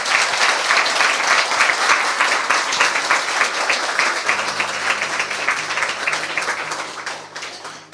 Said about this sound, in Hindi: ये कम ऑन, यीशु के लिए जोरदार ताली बजाएं